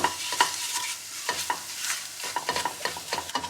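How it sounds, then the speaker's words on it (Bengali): A spoon scrapes and stirs chopped garlic and flour through melting butter in a pan. The scraping comes in quick, uneven strokes under a soft sizzle, close and fairly loud, with no one speaking. "প্যানে অল্প একটু বাটার অ্যাড করছি রসুন কুচনো, 1 টেবিল স্পুন মতো ময়দা অ্যাড করছি। এটা একটু ভালো করে নাড়াচাড়া করব।"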